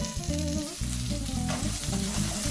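Asparagus stir-frying with capers and preserved anchovies in a hot pan, an even, close sizzle under prominent background music, no talking.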